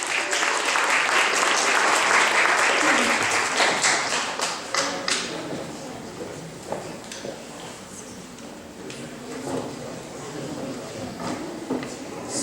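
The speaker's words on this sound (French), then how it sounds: "Haïdar, dernier tour, on l'applaudit très fort aussi." Audience applause at a school spelling bee, loud dense clapping from a crowd that gradually thins out into scattered individual claps and taps, with faint voices mixed in toward the end.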